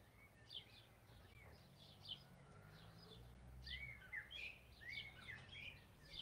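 A blackbird sings in short, bright phrases spread through a quiet outdoor scene, faint and somewhat distant over a low background rumble.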